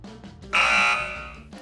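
A handheld breath tester lets out one steady electronic beep, loud and close, holding for roughly a second after a few faint clicks and handling noises.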